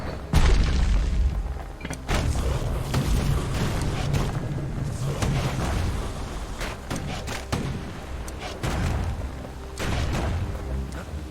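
Heavy booms of grenade explosions in the video game Bastion, several deep blasts in irregular succession with crackling debris, loud and close over a rumbling backdrop.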